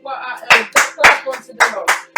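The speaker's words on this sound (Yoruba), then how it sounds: "Pàtẹ́wọ́ kan fún Jésù." A congregation in a church service gives a round of applause for Jesus: about seven loud, sharp, evenly spaced bursts of clapping hands, close and rhythmic.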